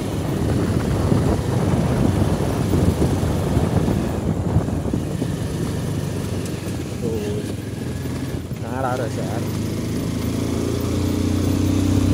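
A motorcycle engine drones steadily near a football ground, a loud, continuous rough roar that fills the whole stretch with outdoor noise around it.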